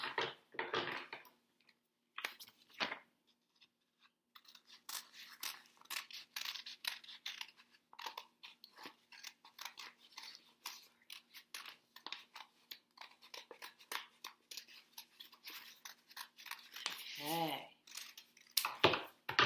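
Scissors snip through construction paper to cut out a vase shape, giving a long run of quick, crisp close-up cuts and rustles with short pauses between.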